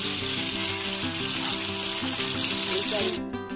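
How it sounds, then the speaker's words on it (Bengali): Rohu fish pieces frying in oil for a fish curry, a steady close sizzle with a tonal hum running underneath, the crackle cutting out sharply near the end. "মাছগুলোকে লাল করে ভাজা হয়ে গেছে"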